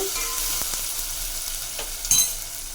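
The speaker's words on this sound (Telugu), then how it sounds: "ఇంకా బాగా కలపాలి టమాటాలు అనేది బాగా మెత్తబడాలి" Tomatoes softening in a hot pan for drumstick curry, heard as a steady close sizzle with occasional scraping strokes of a spatula and one sharper clack toward the end. No one speaks over it.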